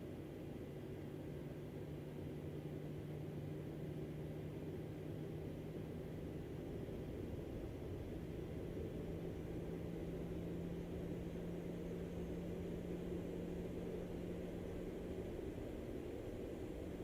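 Boeing 737-800 engines spooling up as throttle increases in Microsoft Flight Simulator 2020, taxiing out to runway 36 at Istanbul on a cloudy departure; a steady, continuous low engine drone with a faint tonal hum holds throughout.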